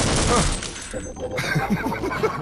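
Shotgun blasts in the Half-Life Crossfire multiplayer shooter, with loud broadband bursts near the start and more gunfire continuing under a player's talking and laughter.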